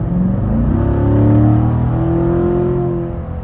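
A Corvette in track mode accelerates hard, its engine note climbing steadily and loud throughout before easing off near the end, with no talking.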